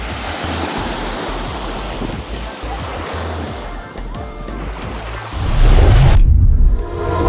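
Waves of the Caribbean Sea surge and wash along the shore at Tayrona National Park, a steady roar mixed with wind buffeting the microphone that swells into a louder, closer crash near the end.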